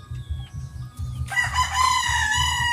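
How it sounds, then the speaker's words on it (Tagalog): A gamecock crows once, loud and near, a long drawn-out call over low rhythmic clucking and background noise. "bago to sa sa pandinig nila, bago yung tilaok"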